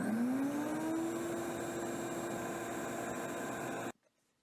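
A shop vac runs steadily on a 2000W inverter, a loud broadband motor whoosh with a whine that climbs as it spins up, then holds even for about four seconds before cutting off abruptly.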